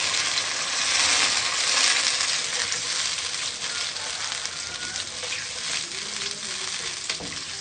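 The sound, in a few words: yogurt being mixed into sizzling kofta curry in pan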